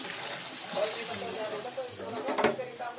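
Water poured steadily into a cooking pot for beef soup, a continuous hissing splash throughout, with a brief clatter near the end.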